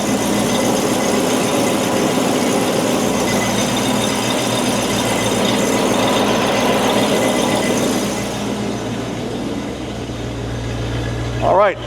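A Land Rover Discovery 1 engine idles steadily with a newly installed exhaust that leaks a little at the clamps, a continuous low mechanical rumble with faint ticking, close and loud, fading slightly near the end.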